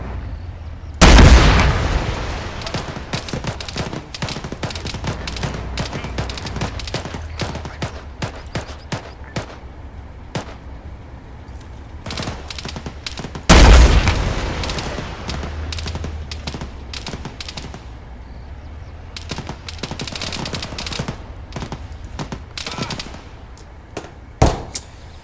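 Sustained gunfire in the video game ArmA Cold War Assault, dense rapid automatic bursts running throughout, with two heavy booming blasts standing out loud above the rattle.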